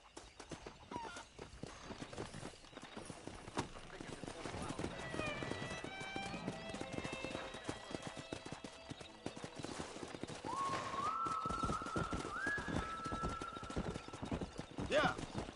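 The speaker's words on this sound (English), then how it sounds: "there's a pack of wild horses nearby" Hooves of a pack of wild horses clip-clop at a gallop over a rumbling background in Red Dead Redemption, with horses whinnying and neighing partway through; a voice talks underneath.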